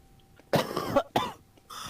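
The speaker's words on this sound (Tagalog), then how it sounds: "Nagulat ako sa ubo mo." Two sharp, close coughs, one right after the other, in a quiet room.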